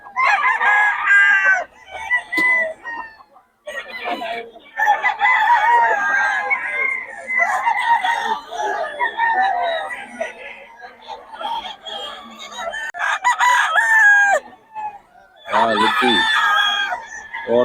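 Several roosters at a festival expo in Pangasinan crow repeatedly, loud and close, with clucking between calls and someone speaking intermittently over them.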